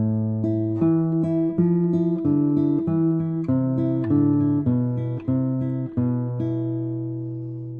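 Spanish guitar notes ring in a steady arpeggiated triplet figure around an open first string, clear and close, each pluck decaying into the next with no talking.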